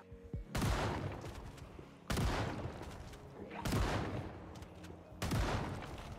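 Gunfire in the zombie video game Project Zomboid comes as four loud, evenly spaced shots, each a sharp crack with a booming tail that rings out over about a second before the next.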